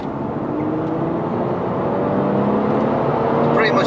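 A BMW F30 335d xDrive and an M140i accelerate side by side in fourth gear from about 40 to 70 mph, a steady loud engine drone and road roar building slightly throughout, heard from inside one of the cars.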